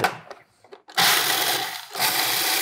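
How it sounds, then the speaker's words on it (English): Food processor grinding almonds: a few short pulses of the motor, then a loud, steady high-pitched whir with the blade spinning through the nuts, briefly dipping before resuming. "when you're grinding almonds or any kind of nuts, make sure that your blade of your food processor is sharp."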